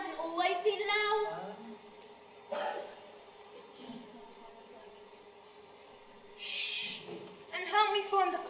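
Quiet indoor stage setting with an owl call heard a few times, soft hoots separated by pauses and breathy noises, with a voice-like sound among them; it may be a person imitating the owl.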